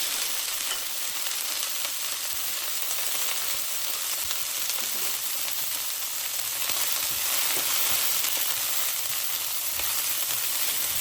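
Oil sizzles in a frying pan as broccoli is cooked for an Indomie noodle dish, a soft, steady crackling hiss that runs on without a break and with no voices.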